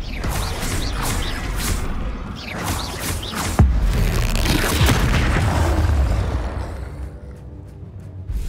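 A Confringo spell detonates in Hogwarts Legacy: heavy, loud booming blasts layered with whooshes and crashing debris, with a sharp impact hitting near the middle before the rumble slowly fades.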